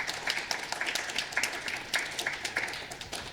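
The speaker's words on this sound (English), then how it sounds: "I wonder if we could have another round of applause for their fine work." Scattered applause from an audience honoring readers at a literary event, a few hands clapping unevenly at moderate volume for a few seconds, with no talk over it.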